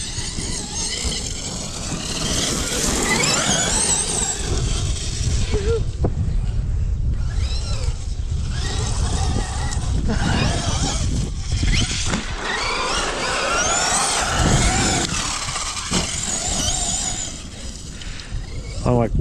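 A Kraton RC monster truck running on X-Maxx tires whines and revs loudly and almost continuously, its electric motor surging and easing, with tire squeals and rough bursts as it drives.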